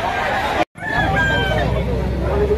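Chickens crow and cluck at a crowded livestock auction market in Lipa, roosters calling over a busy babble of people talking, with a brief dropout early on before the din resumes.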